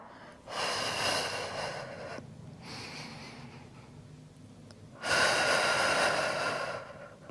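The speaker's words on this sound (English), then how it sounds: "Nice strong exhales to draw the navel in" Strong, forceful breaths during a Pilates reformer exercise, with two long loud exhales framing a quieter breath between them, close and clear with no talking.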